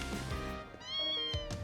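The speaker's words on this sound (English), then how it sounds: "That's the cat." A cat in the video game Tokyo Xanadu eX+ gives two clear, close meows, a short one followed by a longer drawn-out call, with no talking over them.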